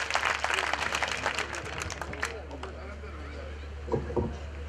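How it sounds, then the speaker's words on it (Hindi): An audience at a Hindi patriotic kavi sammelan poetry gathering claps in a dense burst that thins and fades, with scattered voices underneath and a brief swell of clapping again near the end. "तालियां होनी चाहिए"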